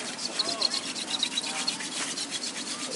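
A wooden hand drill spindle is spun between the palms against a fireboard for friction fire, making a close, rhythmic dry rubbing and squeaking with quick back-and-forth strokes; a voice is briefly heard under it.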